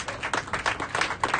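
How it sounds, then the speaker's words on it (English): An audience claps for a speaker at a celebration and fundraiser, a brisk round of applause with distinct individual claps standing out close by and continuing steadily throughout. "Let's give another round of applause for Christian Parenti."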